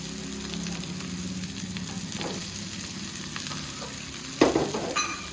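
Fried potatoes and greens are stir-fried with prawns in a pan, giving a steady close sizzle with stirring scrapes and a sharper clatter near the end.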